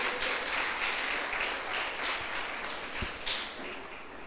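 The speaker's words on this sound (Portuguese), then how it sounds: "Pode dar uma salva de palmas para o Senhor Jesus essa noite." A church congregation gives a round of applause to the Lord Jesus, a soft, diffuse wash of many hands clapping at a distance, steady and fairly faint, with a single louder thump near the end.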